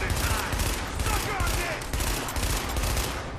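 Rapid gunfire from The Division on Xbox One, dense overlapping bursts like a fusillade running continuously and loudly throughout, with a voice talking over the shooting.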